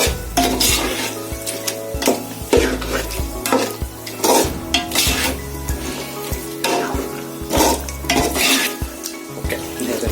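Green chillies sautéing for turkey biryani, a steady close sizzle broken by repeated scraping strokes of a spoon or spatula against the pan and metallic utensil clinks, with no talk.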